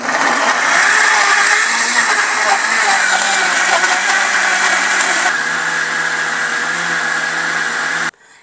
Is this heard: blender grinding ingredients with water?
yes